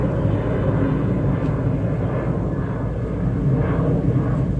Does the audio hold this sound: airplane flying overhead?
yes